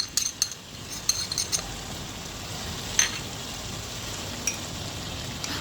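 Chicken stirred with ground cumin, ginger, chili, coriander and turmeric in a pan, a steady low sizzle under sharp intermittent clinks and scrapes of a spoon against metal, with no voices.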